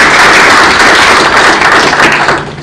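An audience at a launch event on Kenya's apparel and footwear industry gives a hearty round of applause, dense and loud clapping close by that fades slightly at the end.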